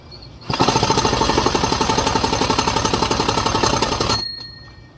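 A loud, rapid rattling hammer-like burst from an old cordless drill driving a socket on a Homelite Super XL chainsaw runs continuously for about four seconds, then stops abruptly.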